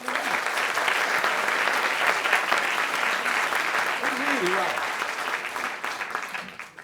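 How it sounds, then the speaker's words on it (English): Sustained audience applause at a conference pitch session, loud and steady throughout before tapering at the end, with a voice speaking briefly over it. "A round of applause again for them."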